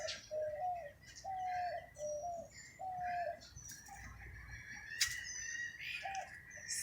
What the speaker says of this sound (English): this is one of the mornings I'm hearing more of the birds